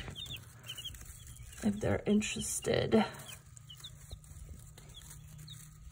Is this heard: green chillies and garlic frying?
no